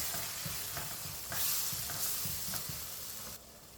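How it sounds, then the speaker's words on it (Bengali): Spices sizzle in hot oil while being stirred for a chicken bhuna, steady frying hiss with repeated scraping strokes of the spoon, close and moderately quiet, no talking. "মশলাটাকে আমি ভালো করে কষিয়ে নেব"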